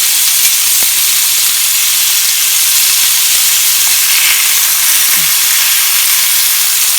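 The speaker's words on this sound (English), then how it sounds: "So now they have a good sear on the outside. They're searing on the other side." Pork chops sear in a hot pan, giving a loud, steady sizzle and hiss throughout with a few small pops and no talk.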